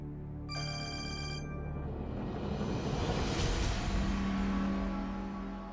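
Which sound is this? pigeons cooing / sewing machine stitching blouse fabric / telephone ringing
telephone ringing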